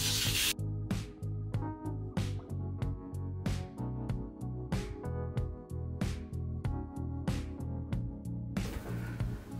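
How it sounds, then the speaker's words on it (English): Avocado oil cooking spray hisses onto chicken wings in a steady run of about fifteen short, close, loud bursts, with no talking. "sides of these wings with some cooking spray. Today I'm using some avocado oil."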